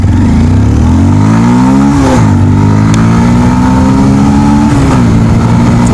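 A 2021 Bajaj Pulsar 150 ABS BS6 motorcycle engine revs loudly and close during a top speed run, its pitch climbing through a gear, dropping at a shift, then climbing again.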